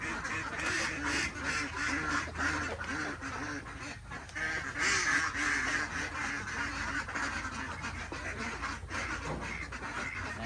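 Farm ducks quacking noisily at feeding time, a dense chorus of overlapping quacks and honks close by, continuous and clamorous throughout, with faint human voice mixed in.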